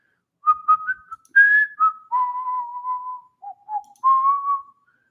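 A person whistles a wandering tune of sustained and sliding notes during a lecture on political philosophy, clear and close in an otherwise quiet room, with no talking.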